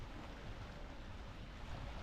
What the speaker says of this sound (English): You just hear the water down below lapping against the rocks.